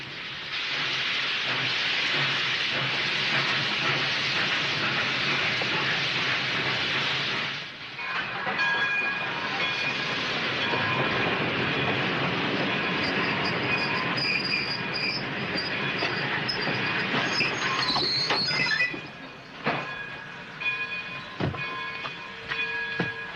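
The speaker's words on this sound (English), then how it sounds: "I just come down to wave at the train" A train roars past for a long stretch, loud and steady, with squealing wheels and metallic ringing tones as it rolls by, then fades with clanks.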